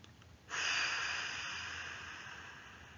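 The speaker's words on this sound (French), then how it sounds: "Expiration, soufflez fort par la bouche pour chasser les tensions accumulées dans votre dos." A single forceful exhale blown out through the mouth during a relaxation breathing exercise, a close breathy rush that starts sharply and slowly fades over a few seconds.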